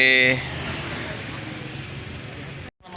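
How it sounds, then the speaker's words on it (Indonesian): A Keramat Jati bus on the road gives a steady broadband rumble of engine and traffic noise throughout, with a short voice at the very start and a brief dropout near the end. "ini bus Keramat Jati"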